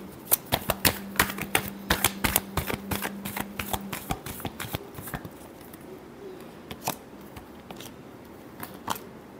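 A deck of tarot cards is shuffled by hand, producing rapid, crisp riffling clicks in quick bursts that are close and distinct, thinning out into scattered snaps toward the end.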